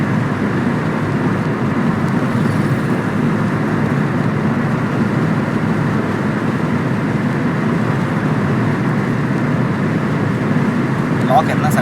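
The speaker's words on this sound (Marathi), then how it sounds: "आमची गाडी पळत नाही, आमची गाडी 80 वरच आहे." A car travelling along a road at about 80 km/h, heard from inside as a loud, continuous broadband rumble of road and engine noise, with voices talking over it.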